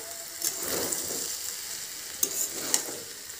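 Tomato chicken rice is stirred in a pot with a spoon, giving a soft sizzle and a few brief scraping scrapes over a steady background hiss.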